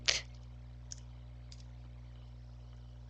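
Mouse clicks in CAD software: one sharp, close click at the start, then two faint clicks spaced about half a second apart over a low steady computer hum.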